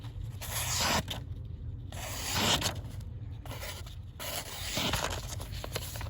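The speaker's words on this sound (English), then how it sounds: "We can take fine slices" A 67-layer Damascus steel folding knife with a 3.7-inch blade slices finely through material, giving repeated close, soft rubbing and scraping strokes with brief pauses between cuts.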